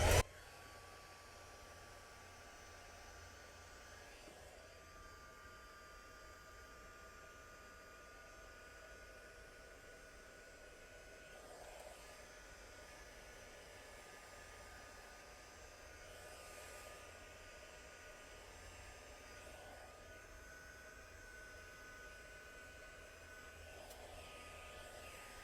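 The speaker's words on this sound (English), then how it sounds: "my heat gun, and we're going to get rid of these marks" A heat gun blows hot air onto plastic beads in a steady, unbroken whooshing hiss that holds at an even level for the whole stretch, with faint shifts in tone as it moves.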